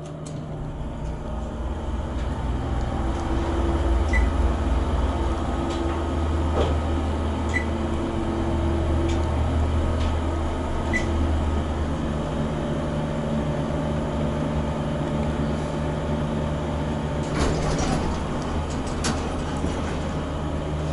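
An old Dover Impulse hydraulic elevator travels with its low, steady mechanical drone and faint rumbling throughout, heard from inside the car, with a few light clicks and a brief rattle near the end and no talking.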